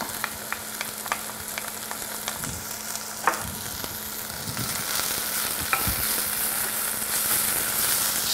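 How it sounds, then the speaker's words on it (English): Onions and garlic sautéing in a pan for an Afghan spicy braised eggplant dish, a steady loud sizzle throughout with occasional light taps and scrapes of a utensil stirring. "we're just going to saute those onions so they have some color to them. And we'll also add the garlic"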